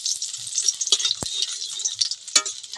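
Spice paste of onion, chili, ginger, garlic and cumin frying in a pan, a close, crackly sizzle of popping spatters with a few sharp clicks and taps from stirring.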